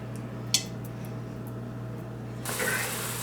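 Chili ingredients are stirred inside an Instant Pot, with a single clink of a utensil against the pot followed by a soft, steady scraping swish over a constant low hum.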